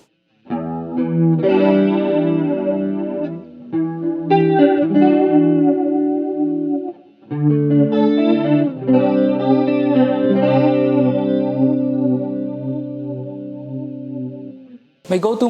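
Electric guitar through a NUX chorus stompbox set to flanger mode, strumming full, slightly overdriven chords with a sweeping, swirling modulation, close and loud, in two long phrases separated by a brief pause.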